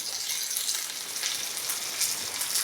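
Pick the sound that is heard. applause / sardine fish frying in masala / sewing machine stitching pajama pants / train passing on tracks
sardine fish frying in masala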